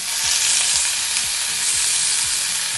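Banana stem pieces drop into hot oil in a kadai, a loud, dense, close sizzle that stays steady throughout.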